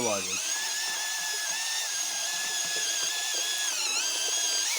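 A hand-fed electric grinder steadily crushes tomatoes for juice, its high motor whine running loud and continuous with slight pitch wavers, while someone talks over it.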